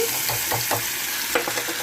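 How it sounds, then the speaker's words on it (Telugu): Hot tempering with asafoetida is poured into gongura dal and sizzles loudly at close range. A steady frying hiss runs under a few sharp stirring clatters, with no talk. "పోపు వేసేద్దామండి"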